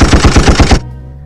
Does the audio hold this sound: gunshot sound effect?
yes